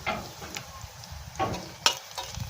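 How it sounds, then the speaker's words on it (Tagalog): Sea urchin and garlic sauté in a pan, soft sizzling broken by a few stirring scrapes and light clinks of a utensil, fairly quiet and close. "gigisahin ko siya dito sa bawang"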